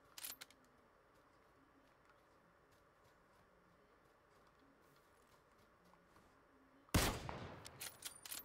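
Gunfire in the video game PUBG: a few faint shots at the start, a long quiet stretch, then a sudden loud burst of close shots near the end.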